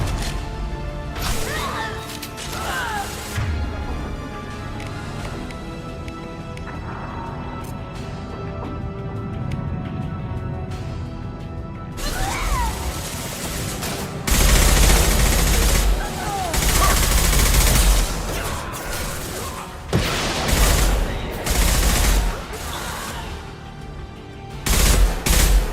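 Rifle fire in a WWII shooter video game set in Normandy: sharp single shots and bursts of gunfire crack in irregular clusters, some heavy and close, mixed with impacts and brief voices under the action.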